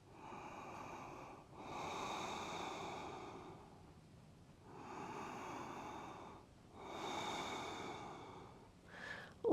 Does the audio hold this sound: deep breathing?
yes